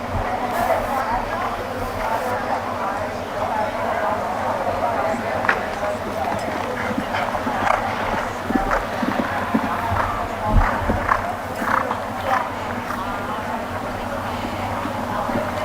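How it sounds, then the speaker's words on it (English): Horse cantering toward show jumps at a jumper clinic, rhythmic hoofbeats in an arena while an instructor talks over them and a crowd murmurs in the background. "So a horse like this can always slow down to the jump because it has plenty of forward momentum."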